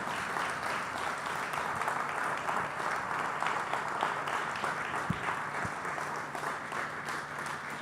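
A church congregation applauds steadily and warmly throughout, a dense wash of clapping from many people in a large room.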